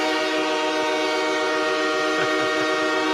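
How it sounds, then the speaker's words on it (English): A loud, steady train horn blares continuously at close range, one unbroken blast with no talk over it. "Hit the horn one more time. The train."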